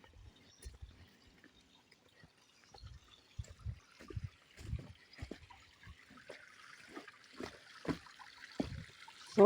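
A river in rural Africa that serves as a drinking-water source, heard as faint close trickling and gurgling water with irregular soft splashes and dribbles, growing slightly busier toward the end.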